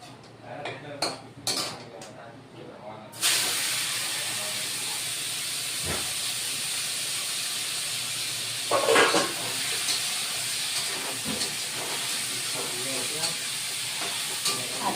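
Sweet pumpkin pieces drop into a hot frying pan with panch phoron, setting off clattering utensil knocks followed by a loud, steady hiss of sizzling oil that continues throughout, with occasional scraping and stirring sounds.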